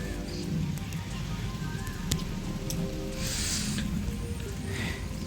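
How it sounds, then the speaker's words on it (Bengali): Rain falls steadily on trees and plants, making a continuous soft hiss and patter with a few sharper drops and clicks, moderately loud and with no talk. "আবার এখানে এসেও বৃষ্টি হচ্ছে"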